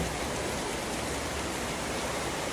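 Steady rain falls on a home in the afternoon, a soft, even hiss of drops holding at the same level with no break from start to finish.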